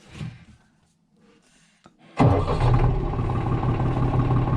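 A farm tractor's engine turns over after a few quiet, scattered sounds. It catches abruptly and settles into a loud, steady, close running rumble.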